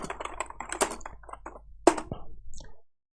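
Git command being typed on a computer keyboard, a fast, close burst of key clicks with one louder keystroke near the end before silence.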